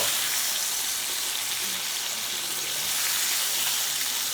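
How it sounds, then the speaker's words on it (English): Two bacon slices frying in a pan, a loud, dense, continuous crackling sizzle heard up close and steady throughout, with no voices. "So 2 slices of bacon going down."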